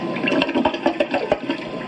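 A Kohler Wellworth toilet on a flushometer, heard in the Roblox video game, flushes with a short, gurgling rush of water that sputters in uneven bursts, close and moderately loud.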